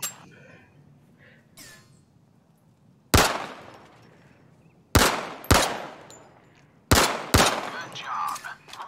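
Sharp, loud gunshots from a rifle in the video game Zero Caliber fire at targets, single cracks and quick doubled shots with short gaps of near-silence between them.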